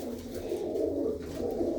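A prize-winning female racing pigeon from Tarn Taran, Punjab, gives a low, continuous throaty coo, close and steady throughout.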